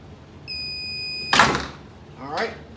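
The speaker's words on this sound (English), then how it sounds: "Wait for the long beep." A heat press pressing heat transfer vinyl onto a T-shirt gives one long steady electronic beep, followed by the clunk and hiss of the press opening and a softer rustle afterward.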